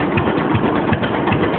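A restored 1947 John Deere Model D tractor engine runs up close, a loud rapid steady chugging that holds without pause and without voices.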